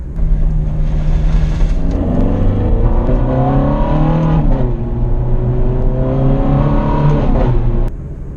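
Ferrari 430 Scuderia V8 accelerating hard from inside the car, pitch climbing and dropping across quick gear shifts, loud and steady before easing off at the end.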